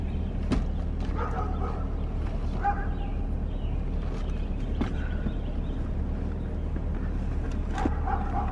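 A dog barks in scattered sharp yips and woofs, several short bursts spread irregularly, at a moderate distance over a steady low rumble of traffic or an engine outdoors on a hot morning.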